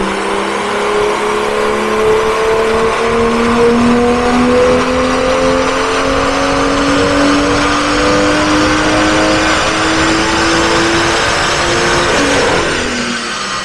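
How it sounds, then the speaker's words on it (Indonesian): A BMW M2 with an N55 engine and a stage 2 remap revs hard on a dyno, the engine note climbing steadily in one long sustained pull before cutting off near the end, loud and close with no talk. "suaranya memang lebih enak di N55 dibanding S55"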